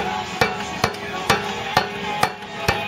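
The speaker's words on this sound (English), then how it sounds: "using the rubber mallets we are tapping in the lower wishbone" A rubber mallet taps the lower wishbone into place on a Ford Cortina GXL under rebuild, six sharp, evenly spaced knocks close by in a workshop with no speech.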